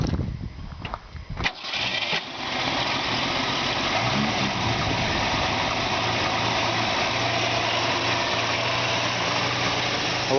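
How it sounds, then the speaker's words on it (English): A 1965 Ford Mustang six-cylinder engine cranks briefly, catches and settles into a steady, loud idle that runs on evenly for several seconds, heard up close. "we're going to go ahead and crank it up right now so you can hear the engine"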